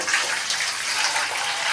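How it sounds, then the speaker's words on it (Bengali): Steady rushing water, like a running tap splashing over spinach leaves being rinsed, close and continuous for a brief moment. "শাকটা একটু বেশি করে জল দিয়ে ধুয়ে নিতে হবে"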